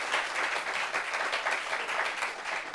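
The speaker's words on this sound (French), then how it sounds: "Applaudissements pour ce monsieur." Studio audience applauding a man at a French-language gathering in Abidjan, a dense, steady wash of many hands clapping at close range, sustained and even with no pause.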